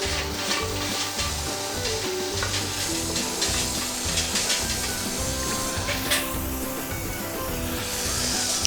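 Food searing in a cast-iron Dutch oven heated with charcoal briquettes, a close, steady crackling sizzle with popping spatters that runs throughout and swells briefly near the end, no one talking.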